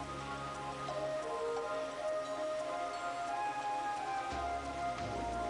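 Steady rain falling, a soft continuous patter of drops with occasional ticks, faint and even throughout, no voices present.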